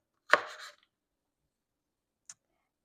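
A knife cuts an onion into quarters on a board, one close crisp chop with a short scraping tail, then a single faint click after a pause, otherwise quiet.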